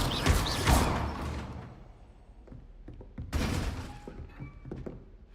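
A Levioso spell cast in Hogwarts Legacy lands as a heavy thunk with a bright shimmering burst, followed by a second similar hit and crackle a few seconds later, fading out between them.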